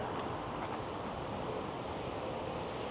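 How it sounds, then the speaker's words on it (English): Creek water flowing in a Mississauga suburb near Toronto, a steady broadband wash with no break, fairly close and moderately loud, and nobody speaking. "And we've come across a creek."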